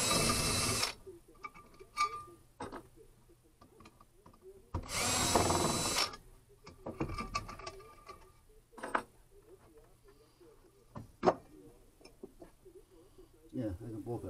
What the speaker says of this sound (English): I just have to drill a hole in the gizmo.